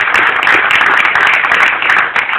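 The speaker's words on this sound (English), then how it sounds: "Yes, we can clap on that." An open house crowd bursts into loud, dense applause, many hands clapping together in a bright, continuous wash that stays strong throughout.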